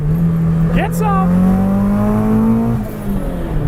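A 1970 Datsun 240Z with an SR20DET engine under full throttle, heard from inside: a loud, steady engine drone climbing gradually in pitch with a brief tire-like squeal early on, while people talk excitedly over it.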